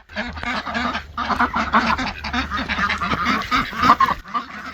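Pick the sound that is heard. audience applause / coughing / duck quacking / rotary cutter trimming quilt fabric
duck quacking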